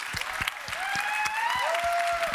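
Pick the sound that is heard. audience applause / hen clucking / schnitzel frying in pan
audience applause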